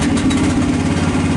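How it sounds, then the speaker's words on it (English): A one-ton mini excavator's engine runs at a steady idle, a low continuous drone with a constant hum and vibration that stays level throughout, with no talking over it. "So, the engine was obviously running"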